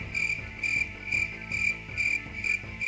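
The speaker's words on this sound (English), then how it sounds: "get these goddamn crickets out of here" Crickets chirp in steady repeated pulses, a bright trilling chorus that comes and goes roughly twice a second, loud and close, with no talk over it.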